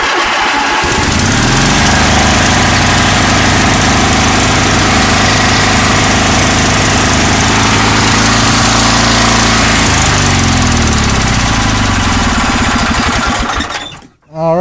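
A small engine from a go-kart being torn down for parts cranks over, catches and runs loud and steady with a buzzy idle, then shuts off abruptly near the end.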